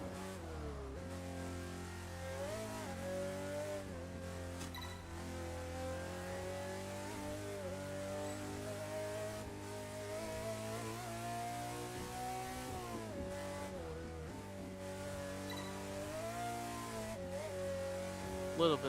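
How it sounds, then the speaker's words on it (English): A Pagani Zonda F engine in the racing game Test Drive Unlimited 2 drones and revs in steady rising and falling pitch, holding a continuous throttle tone with brief dips between gear changes. "This Zonda F is amazing. It sounds so good."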